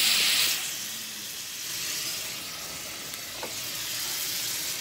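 Cabbage sautéing in a pan hisses loudly as a splash of water goes in, then settles into a steady, close sizzle that holds for several seconds.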